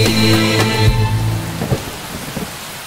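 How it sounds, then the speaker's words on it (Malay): Heavy rain pours steadily while deep rolling thunder booms loudly at the start, then fades into a dense, close downpour with scattered drips and splashes. "Sang kambing takut air, berlari cari tempat nak berteduh. Hujan tak berhenti."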